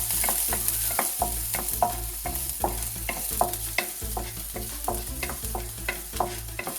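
Garlic fries in hot oil over a high flame, with a rhythmic series of scraping stir strokes over a sizzle, close and without talk.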